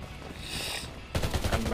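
Gunfire in the Undawn PvP shooter game, where a quieter stretch breaks into a loud, dense burst of rapid shots.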